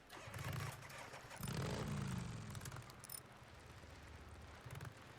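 Motorcycle engine starting in the video game Days Gone, a low rumbling start and rev that swells then settles into a steady idle under the game's ambience.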